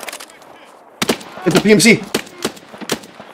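Sharp gunshots in the shooter game Escape from Tarkov, scattered cracks over a few seconds, mixed with a voice speaking over the firing.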